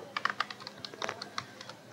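Keystrokes on a computer keyboard while VHDL code is entered, a quick uneven run of light clicks and taps close by with short pauses, no talking.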